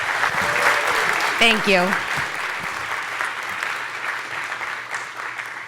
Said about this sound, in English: So please give her a huge round of applause for all the great work she's done for this conference.